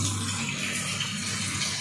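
Water runs steadily from a tap into a spice mixture being prepared at home, a continuous close splashing flow with no talking.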